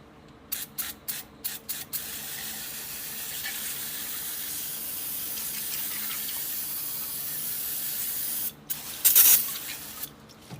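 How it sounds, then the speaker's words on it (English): Brake cleaner aerosol sprayed onto the top end of a Mahindra MUV700 UTV engine: several short hissing bursts, then one long continuous spray lasting several seconds, and a final louder blast, close by with no talking. "that's a lot of brake clean"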